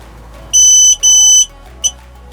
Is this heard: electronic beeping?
yes